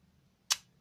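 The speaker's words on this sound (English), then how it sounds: "this gear begins to turn" A single brief mechanical tick from the shutter delay gear of a Smena 8M camera, sharp and close, alone in near silence.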